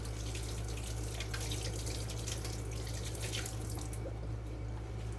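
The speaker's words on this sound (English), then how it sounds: "Wash my hands off here." Water runs from a kitchen sink tap while hands are rinsed, a steady close splashing flow over a low constant hum, no voices.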